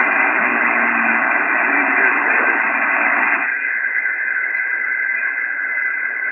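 Amateur radio reception on an HF transceiver in portable operation, a steady band of static hiss and radio noise running the whole time, shifting in tone partway through as the signal fades further into the noise, with no voices heard.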